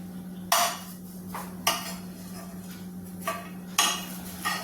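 A utensil clatters against a pan while flipping pieces of a frying aval (flattened rice) snack: five or six sharp, separate clinks and scrapes at irregular intervals over a low steady hum, with no voices.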